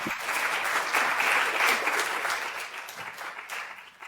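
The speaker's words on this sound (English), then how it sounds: "I want to give a big round of applause and shout out to our panelists" Audience applause for the panelists at a panel discussion on partnerships between justice movements and higher education: a sustained wash of clapping from a crowd that stays full for a few seconds, then gradually thins and softens.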